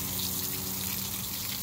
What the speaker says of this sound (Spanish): Vamos a regar un poquito el romero.